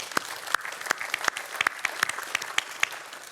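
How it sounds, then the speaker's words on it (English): Audience applause at a summit broadcast of first ladies and gentlemen, honouring the speakers: a steady wash of many hands clapping with sharper individual claps standing out, continuous and moderately near, with no talk over it. "give a big round of applause both to our three wonderful speakers"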